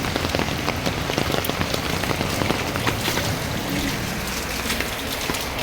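Heavy, steady rain pours down during a flood, a dense continuous hiss of drops pelting surfaces, loud and close throughout with no letup.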